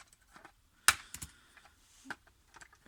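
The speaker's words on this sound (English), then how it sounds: "So I'll just try and cut all these bits out," Sharp plastic snips and clicks as bits are cut away from a Transformers Power of the Primes Skrapnel figure, one loud crisp cut followed by a few smaller ticks and taps, close and alone in a quiet room.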